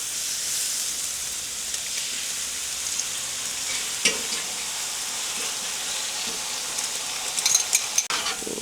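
Eggs dropped onto a hibachi griddle beside fried rice and vegetables, giving a steady hissing sizzle with occasional spatula taps and a brief flurry of scraping near the end, close and without speech.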